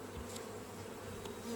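Honey bees buzzing at an open hive during a June inspection, a faint, steady drone of many insects with no voices.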